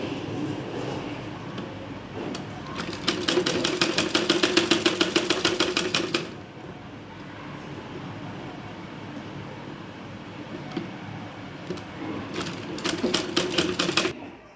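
Sewing machine stitching strips for a blouse sleeve, two fast rapid-fire bursts of needle clatter separated by a quieter pause with soft handling noise.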